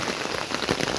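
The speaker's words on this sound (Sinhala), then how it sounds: "තාමත් හොඳටම වහිනවා." Heavy rain pours steadily during a slow walk along a railway line in Sri Lanka, a dense, continuous hiss of drops striking the ground and nearby surfaces, close and loud throughout with no voices.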